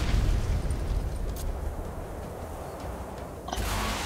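Video game rocket launcher explosions from a live stream: a dense rumbling boom fading into a noisy tail, then a second sharp burst near the end, loud with no talk.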